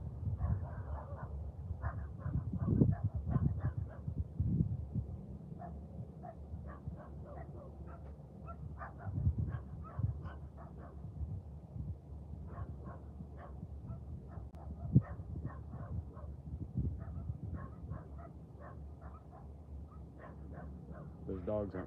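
Dogs barking and whimpering near a railway during live railfanning on Christmas, with repeated short yips and barks scattered throughout over a low rumble of idling locomotives.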